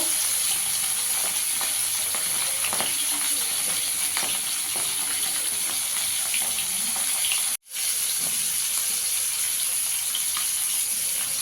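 Small bacha fish frying in oil over a low gas flame, a dense, continuous crackling sizzle heard up close, broken once by a brief dropout of sound partway through.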